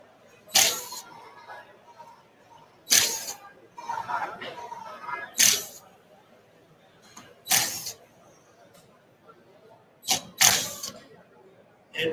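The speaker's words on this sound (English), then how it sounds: "So we'll just unscrew all this." Parts of a woodworking fixture being unscrewed at a live woodworking event: several sharp mechanical clicks and clunks spaced a few seconds apart, with quieter fiddling sounds between them, close by.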